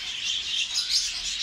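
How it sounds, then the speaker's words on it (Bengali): A pair of canaries at a bird shop in Saudi Arabia chirps in thin, high, rapid twittering, soft and continuous across the brief moment. "এখানে জোড়া ক্যানারি"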